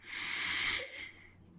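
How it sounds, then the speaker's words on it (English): A slow, deep inhalation draws in as a soft, airy rush of breath, close and unaccompanied, swelling for under a second during a guided breathing exercise before fading to near silence. "Take a deep breath in."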